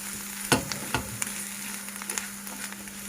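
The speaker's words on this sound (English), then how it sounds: "you smoothly stir it into these mushrooms" Mushrooms frying in butter in a pan as they are stirred, giving a close, steady crackling sizzle broken by a few sharper scraping bursts from the stirring, with no talking.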